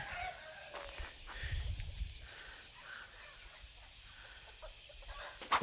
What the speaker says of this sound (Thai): มันจะมีไก่ด้วย ไก่ไก่ไก่